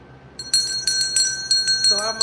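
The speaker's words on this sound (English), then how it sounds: "Is that bell super loud? Because it's kind of loud to me." A small hand bell rings in a quick series of bright, ringing strikes, close and fairly loud, with a voice speaking briefly near the end.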